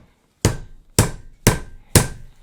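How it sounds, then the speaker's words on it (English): Four sharp metallic hammer strikes setting an accordion bass strap rivet on a small vise-mounted anvil, evenly spaced about half a second apart, each ringing briefly before the next blow. "Now I'm going to want to finish the rivet with a hammer."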